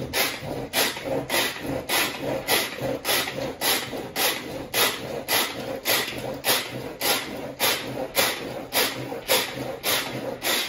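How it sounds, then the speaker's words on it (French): A pastry cutter chops butter into flour for pâte brisée, giving a quick, even run of scraping, crunching strokes about twice a second, close and fairly loud, with no talking. "on va venir hacher vraiment pour défaire le beurre avec la farine"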